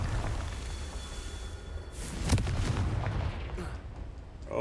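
A Confringo spell blast in a Harry Potter–style video game: one sharp explosive burst midway, followed by a rumbling tail that fades, with low game ambience around it.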